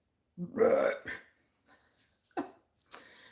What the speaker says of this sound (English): Boy, that would have been a loud burp.